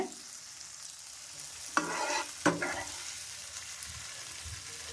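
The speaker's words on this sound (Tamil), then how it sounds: "இப்போ பாருங்கள், இந்த ப்ரோக்கலி, இந்த குடைமிளகாய் நல்லா வந்து ஓரளவுக்கு வதங்கிருச்சுங்க." Broccoli and capsicum being sautéed in a pan, a soft sizzle underneath two distinct scraping stirs of a spatula against the pan, fairly close and quiet, with no talking.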